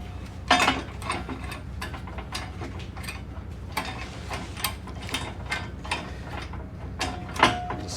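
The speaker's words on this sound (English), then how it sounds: "so we'll just throw a couple of clamps on here." Metal clamps being fitted and tightened onto a steel bulwark during a fishing boat refit, heard as scattered ratcheting clicks and clanks over a steady low workshop hum, with sharper knocks near the start and end.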